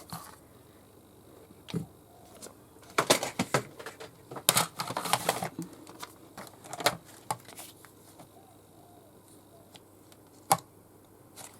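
Paper pieces being cut for a handmade paper bag journal, with a scatter of crisp snips and rustles, busiest in the middle, close and fairly soft with no talking.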